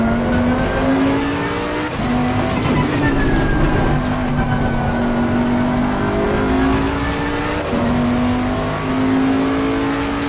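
Race car engine from the Assetto Corsa Competizione video game at Brands Hatch, droning loud and steady throughout, with pitch rising through gears and dropping at shifts, plus faint tire noise.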